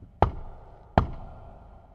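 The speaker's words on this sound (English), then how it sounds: "He knocked on the door" Two firm knocks on a door, evenly spaced and close, each a sharp thud with a short fading ring, alone with no talking.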